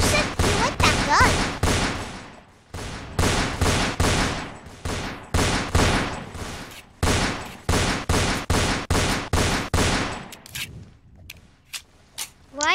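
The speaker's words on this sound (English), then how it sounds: "Get an AK-47 and shoot him down." AK-47 gunfire in a Roblox shooter game: rapid bursts of automatic fire repeat for about ten seconds with short gaps between them, then give way to a few sparse single shots near the end.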